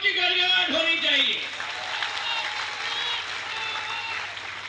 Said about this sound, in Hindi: अरे तालियों की गड़गड़ाहट होनी चाहिए